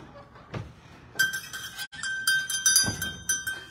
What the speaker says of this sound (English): That's a cowbell.